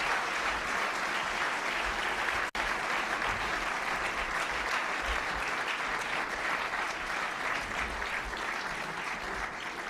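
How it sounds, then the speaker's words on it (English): National Press Club luncheon audience applauds the speaker, Mayor Rudy Giuliani, with sustained dense clapping filling the room, steady and moderately distant, with a momentary dropout partway through. "How about a round of applause for our speaker today?"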